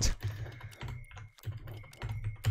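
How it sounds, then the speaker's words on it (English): Fast, uneven typing on a mechanical computer keyboard, close up, sounds as a steady run of crisp key clacks with brief pauses between bursts and a faint steady tone underneath. "some people like the sound of mechanical keyboards"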